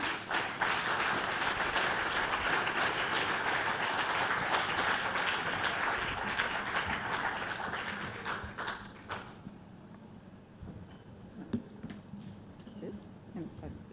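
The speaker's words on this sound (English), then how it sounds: "a warm applause for Dr. Kluche" Conference opening ceremony crowd applauds warmly, a full hall of clapping that holds strong for about nine seconds, then tapers into scattered claps and faint room noise.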